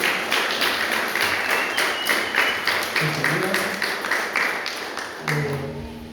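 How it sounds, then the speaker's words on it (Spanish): Congregation clapping in a church service, a steady run of dense applause with rhythmic taps through most of the clip, fading toward the end as other sounds enter. "Regálenle unos fuertes ofrendas de palmas a nuestro Dios"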